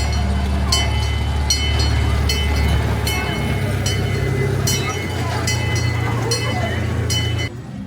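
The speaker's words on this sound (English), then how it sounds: "Guess the train does a flyby of the station." A train rumbles steadily past at close range with a low continuous roar and periodic clicking from the rails, fading slightly near the end.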